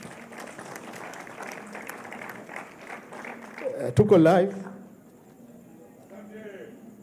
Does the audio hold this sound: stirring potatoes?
no